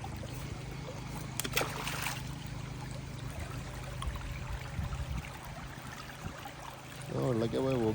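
A steady, low trickle of water moves along an irrigation channel in a Salalah farm garden, with a few small splashes, while someone speaks briefly over the flow.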